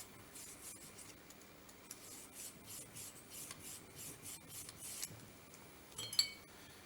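A cleaning brush scrubs in and out of the chambers of a revolver cylinder, making soft, repeated rasping strokes in a steady rhythm that end with a light metallic clink.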